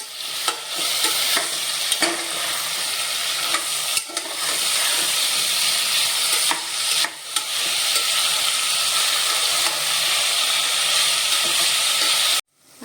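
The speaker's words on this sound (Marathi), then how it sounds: "फ्लावर आपण तेलात सगळं भाजून घेऊया" Cauliflower and mixed vegetables frying in oil for veg biryani, a loud, dense, continuous hiss and sizzle with occasional stirring knocks and scrapes, close up and unbroken for over twelve seconds.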